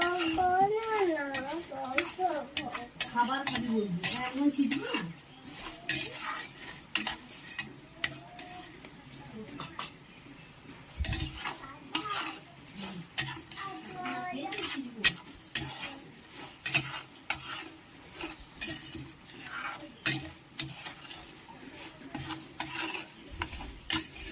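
Light frying of an ingredient in a home-kitchen pan for khichuri with fried brinjal: soft scraping and stirring clatter with a faint sizzle, talk running over much of it, utensil clinks throughout.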